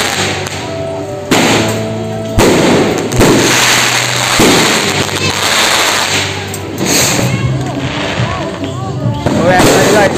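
New Year fireworks and firecrackers bursting outdoors in the Philippines, with repeated loud booms and crackling pops close by, while people talk over the blasts.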